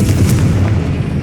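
Confringo, an explosive blast spell cast in Hogwarts Legacy: a loud, booming burst with a deep, continuous rumble that fills the whole moment.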